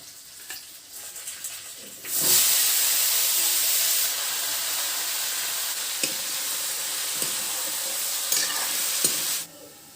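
Vegetables hit hot oil after a tempering of fenugreek and onion, with a sudden loud sizzle that continues as a steady hiss, with occasional stirring clicks, then cuts off.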